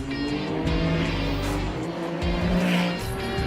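A Ferrari 296 Challenge race car snarls around Miami International Autodrome, its engine loud and close, with revs rising and dropping through gear changes.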